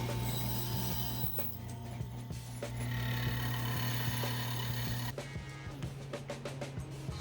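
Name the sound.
drilling holes in wood for a homemade shelf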